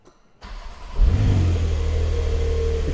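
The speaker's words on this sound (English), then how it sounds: "you can hear the engine leaps into action" A car engine starts when the ignition is turned with a foot on the brake: a brief quiet, a click, then the starter cranks and the engine catches and settles into a steady, close idle.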